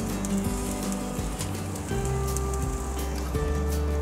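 A steak cooks on a very hot grill, a loud dense crackling sizzle running continuously as it is turned over, with a low tonal hum underneath and no talk.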